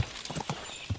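Horse hooves clop in quick, irregular thuds during a charge in Kingdom Come: Deliverance II, a brief close burst of galloping over faint game ambience.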